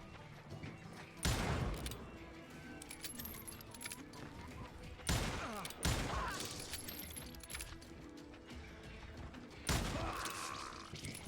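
Gunshots ring out in the Western shooter Call of Juarez: Gunslinger, with four or five sharp, widely spaced reports over a busy game background.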